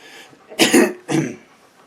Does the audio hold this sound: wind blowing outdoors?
no